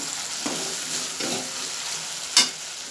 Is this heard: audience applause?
no